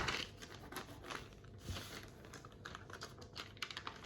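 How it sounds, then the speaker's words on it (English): Paper flaps of an origami SU-57 jet being folded and creased, giving quiet, close crinkles and soft taps in a steady, irregular patter. "So now just fold these flaps down,"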